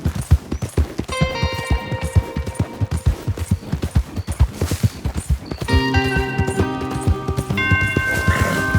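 Horse hooves pound in a fast, steady galloping rhythm in the video game Red Dead Redemption 2, loud and close, with musical tones rising partway through and no talking.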